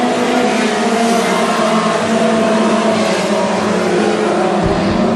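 WISSOTA Mod Four race cars roar past the grandstand at Ogilvie Raceway's Harvest Cup, a loud sustained engine drone with steady revving and no break in the noise.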